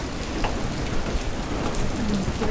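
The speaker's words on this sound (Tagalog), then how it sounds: "Panay pa rin ng ulan at bahang-baha na." Heavy rain pours steadily during morning flooding amid a storm, a dense, continuous hiss of drops drumming on surfaces close by, with no voices.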